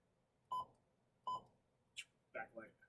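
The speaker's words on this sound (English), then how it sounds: "Button beeps." Button beeps from a RadioShack 12-521 weather radio: two short, clear tones about a second apart, then a brief higher click and a quick double chirp, all close and quiet.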